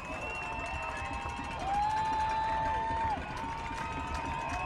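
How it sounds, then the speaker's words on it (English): Home-stand crowd at a high school playoff football game between Westwood and High Point, a steady broad roar of cheering from a large stand with a whistle-like tone riding on top, loud and continuous throughout. "the Westwood stand crowd is beginning to stand and cheer this outstanding performance by the Cardinals of Westwood"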